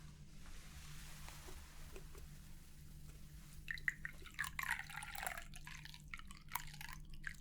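Tea poured from a pot into a cup in a quiet hotel suite setting, a soft trickling and dripping liquid stream building over several seconds, close and gentle against a low steady hum.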